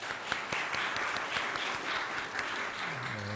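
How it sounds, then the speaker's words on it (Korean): Short burst of congregational applause during a Korean church Sunday service, brisk clapping from a modest indoor group lasting a few seconds before fading. "박수!"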